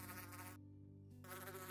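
Bee buzzing in the Minecraft video game, a steady close insect drone that briefly drops away mid-clip and then returns, heard alone with no talk.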